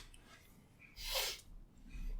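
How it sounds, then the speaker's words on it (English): A single short, breathy sniff or snort lands mid-clip against a quiet indoor background on a cold, rainy winter day, followed by soft breathing. "We're both sniffing."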